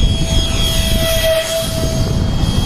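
An F-15 foam radio-controlled jet with a 64mm electric ducted fan flies overhead, a loud sustained whine with a steady high tone that swells slightly as it passes close, alone without speech.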